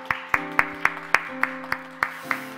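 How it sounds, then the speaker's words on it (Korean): Hands clap in a steady, even beat, about four claps per second, over sustained organ-like musical tones, during a church prayer service. "우리 하나님 앞에 영광의 박수 올려드립니다"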